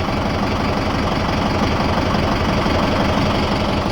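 A tractor engine runs at a steady idle, a close, loud, continuous low rumble with a rapid knocking throb and no voices.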